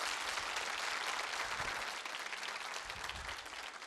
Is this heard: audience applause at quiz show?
yes